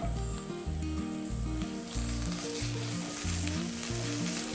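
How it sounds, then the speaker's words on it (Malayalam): Cashews and onions sizzle and crackle steadily in hot ghee in a pan, a close, continuous frying sound with occasional stirring. "ഇതിലേക്ക് കശുവണ്ടി ചേർക്കാം. കശുവണ്ടി ഒന്ന് റോസ്റ്റ് ആയതിനു ശേഷം മുന്തിരി"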